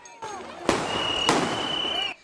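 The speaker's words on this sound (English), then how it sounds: "Protesters gathering at the scene, setting off fireworks and throwing rocks at police." Fireworks set off by protesters at a Minneapolis street protest: two sharp, loud, close bursts about half a second apart, each trailing into crackling and a sustained whistle-like tone, with faint crowd noise before them.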